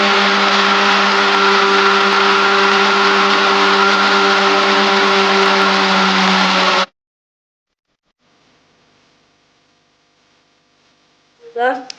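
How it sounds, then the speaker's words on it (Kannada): A loud mixer grinder whirs steadily for several seconds blending a fig milkshake, then cuts off abruptly, leaving near silence with a faint rattle and brief noise at the end. "ಇವಾಗ ನಾನು ಎಲ್ಲ ಮಿಕ್ಸ್ ಮಾಡ್ಕೊಂಡಿದ್ದನ್ನು ಮಿಕ್ಸಿಗೆ ಹಾಕಿ ರುಬ್ತಾ ಇದ್ದೇನೆ ಈಗ"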